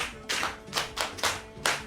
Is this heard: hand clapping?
yes